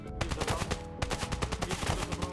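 Rapid bursts of gunfire from the mobile shooter game Standoff 2, with dense repeated shots in quick rhythmic succession, loud and close, continuing for the whole stretch with no clear talk.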